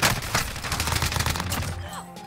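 Rapid bursts of gunfire from the Warzone battle royale game crackle densely for about two seconds, loud and continuous, then cut away as the shooting stops.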